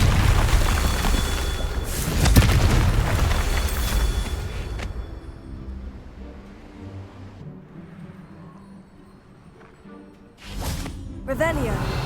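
A Confringo blasting spell explodes in Hogwarts Legacy, a loud booming burst that swells and fades into rumble, followed later by quieter magical whooshes and effects, with a voice casting spells.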